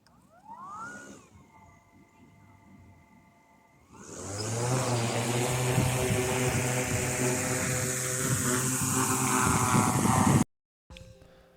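A DJI Matrice 4E drone flies overhead. A whine first rises in pitch and settles, then after a pause a loud, dense, buzzing rotor drone starts and holds steady for several seconds before it cuts off abruptly.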